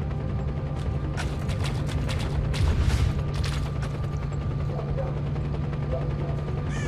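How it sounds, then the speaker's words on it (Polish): Helicopter flying overhead in the video game S.T.A.L.K.E.R.: Call of Pripyat, a steady droning rotor roar held throughout at moderate level, with a short louder burst midway and mechanical clatter layered in. "Aż helikopter leci"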